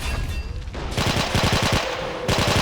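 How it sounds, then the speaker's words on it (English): Dense rapid gunfire from an Army Men of War battle, machine-gun bursts and overlapping shots rattling continuously and loudly with only a brief lull before resuming. "I love the sound of those guns."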